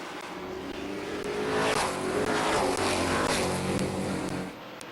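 Race cars roar around the oval at Midvale Speedway, a dense, loud engine drone that swells as the pack passes close and then eases slightly, continuous with no talking.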